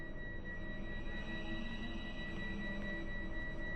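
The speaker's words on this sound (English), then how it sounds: "Scan complete. No listening devices found." A scanner sweeping for listening devices in the Star Wars: The Old Republic video game emits steady high electronic tones over a low continuous hum, a faint even drone with no voices.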